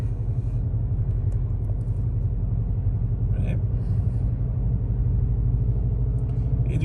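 A 2022 Skoda Octavia RS creeps forward in stop-and-go traffic. A steady low rumble of road and engine noise fills the cabin, with a few brief faint clicks. The sound is fairly loud and continuous.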